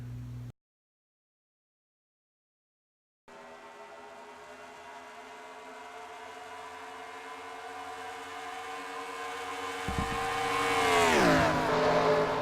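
Race cars in a video game at Atlanta Motor Speedway, a steady engine drone that builds in loudness and ends in a swelling, pitch-sweeping whoosh of cars passing close, after a short silent gap near the start.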